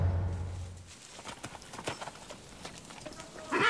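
Przewalski's wild horses clip-clop with their hooves in an irregular string of soft, close steps over a faint outdoor background.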